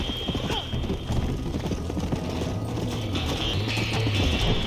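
A horse in Red Dead Redemption gallops with steady, rapid hoofbeats at a close, even level, mixed with light mechanical clicks and game ambience.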